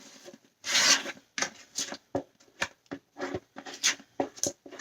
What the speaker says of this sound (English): We want to take our handy dandy scraper. Get all that goodness out of there.